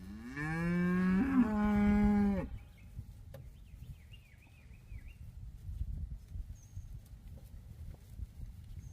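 A cow on a farm pasture gives one long, loud moo up close, then the field falls to quiet outdoor ambience with faint distant sounds.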